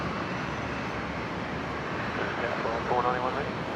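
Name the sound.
Qantas airliner taxiing to domestic terminal, Brisbane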